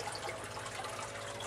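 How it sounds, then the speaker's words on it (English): Water flows steadily through a backyard aquaponics tank feeding deep-water-culture rafts, a continuous close rushing and trickling wash with no voices. "You can see the amount of water flow that's going through it."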